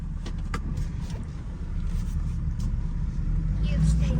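Engine of a 1971 restomod Pontiac Firebird with 241 heads, LS6 intake and a 4L60 four-speed automatic, droning steadily from inside on a test drive, its low rumble building slightly toward the end beneath road noise.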